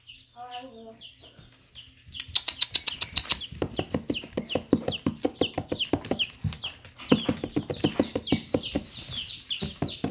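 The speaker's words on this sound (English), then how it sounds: "Ellie, you better go get those other birds" Chickens cluck close by in rapid, rhythmic bursts that rise to a busy chorus, with a few higher calls at the start. The clucking continues steadily throughout.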